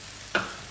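Potato stuffing seasoned with dried lime powder, stirred in a hot pan: a single brief scrape of the spoon bursts into a short sizzle that settles into a steady low frying hiss.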